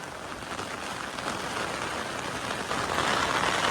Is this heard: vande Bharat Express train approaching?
no